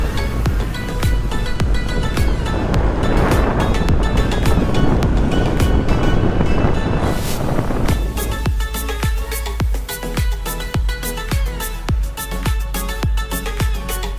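Heavy wind rushing over the microphone while riding a motorcycle on the road back toward the city from Borobudur, a loud continuous buffeting roar with rhythmic thumps.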